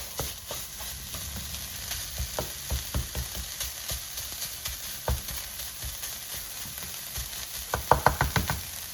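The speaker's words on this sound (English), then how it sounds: "So now it's sizzling, so it's getting fully heated. So I'm going to just stir it." Riced hearts of palm sizzle steadily in a hot pan, with scraping stirs and a few sharp utensil taps near the end.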